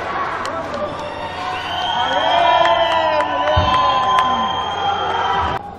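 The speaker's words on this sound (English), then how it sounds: "The crowds go mad over here." A crowd roars and cheers at a jiu-jitsu match, loud excited shouting and whoops from a large audience building and sustaining over several seconds, with indistinct voices mixed in.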